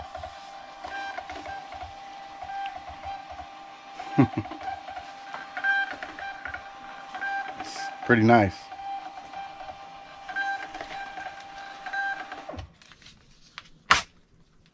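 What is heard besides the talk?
Rollo label printer printing shipping labels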